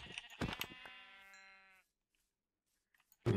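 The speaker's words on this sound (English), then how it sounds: "I'm killing the sheep" Sheep in the Minecraft video game bleat in one drawn-out, wavering cry that fades away, followed by near silence and a brief closing thump.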